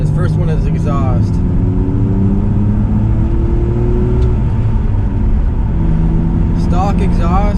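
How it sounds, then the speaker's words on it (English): A BMW E46 on its stock exhaust with the muffler deleted idles and revs nearby, a deep throaty drone rising in pitch, while a voice talks over it at the start and end. "Stock exhaust with a muffler delete. It sounds absolutely amazing."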